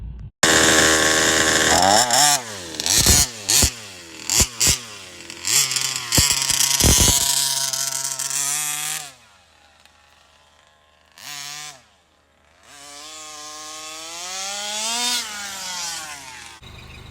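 A gas engine rigged into a fifth-scale RC car, noted for very high compression, runs loud and close, revving up and down in buzzing, chainsaw-like surges, dropping briefly to a near idle before climbing again.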